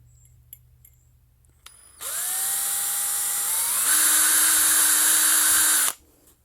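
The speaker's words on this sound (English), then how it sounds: "I'm going to set this up in the vise, and I'm going to drill that out with a drill" Power drill boring out a small brass bushing pushed into the plastic seat of a mower carburetor clamped in a vise, a loud steady whine of about four seconds that deepens in pitch midway, with faint clicks before it starts.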